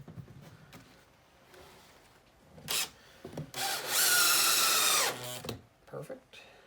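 A power drill drives a screw into wood while a storage bench is being put together, a few short whirs and then one long steady grinding run, heard close with someone talking between the bursts.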